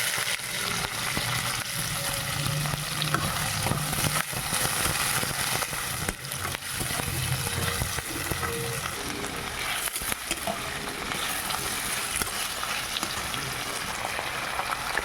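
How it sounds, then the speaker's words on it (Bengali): Steady, loud sizzling of nigella seeds, green chillies and chopped onions frying in hot oil, a dense continuous crackle close by with faint stirring underneath and no talking. "এবার আমি এখানে কালো জিরে ফোড়ন দেবো, দিয়ে দেবো কাঁচা লঙ্কাগুলো, এবারে দিয়ে দেবো কেটে রাখা পেঁয়াজ।"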